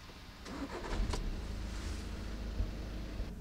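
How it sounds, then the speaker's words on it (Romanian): A used car, a Seat Leon, Skoda Scout or Golf Alltrack, starts with a brief starter crank, then its engine catches and settles into a steady idle, heard from inside the cabin. "Așa pornește mașina."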